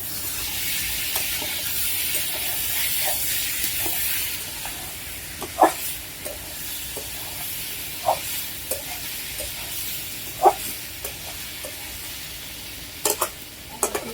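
Bitter gourd slices sizzle steadily as they fry in a pan, with a continuous hiss broken by occasional clinks and scrapes of a spatula stirring, fairly close and without talk.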